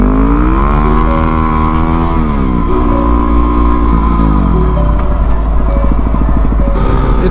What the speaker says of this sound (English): feel out even more of my Supermoto that I just converted